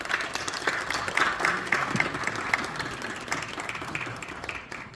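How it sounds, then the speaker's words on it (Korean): Audience at a Seoul Gangnam presbytery church meeting breaks into steady, sustained applause for newly elected officers, a dense wash of clapping held at even loudness for the whole stretch, with no speech over it. "큰 박수로 그냥 받도록 하겠습니다."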